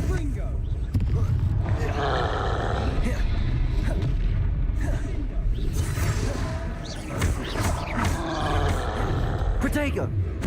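A fiery Confringo spell blast in the Hogwarts Legacy video game, booming and whooshing amid roaring creature growls and combat effects, with someone shouting spell names loudly over the din throughout.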